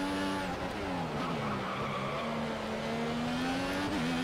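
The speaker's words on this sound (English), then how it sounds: "Bit of drifting going on." Race car tires squeal steadily while drifting through a corner on the Singapore street circuit in F1 2014, a loud sustained screech over a continuous engine drone with no pauses.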